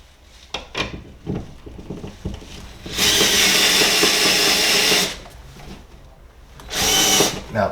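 A power drill drives screws into a Navien controller plate on a sheetrock wall, with a loud two-second whir, then a shorter burst later, separated by small handling clicks and taps.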